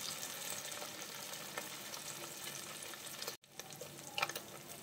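Marinated beef pieces frying in a pan, a steady soft sizzle with a brief gap and then a few louder spatters as pieces go in, no talk.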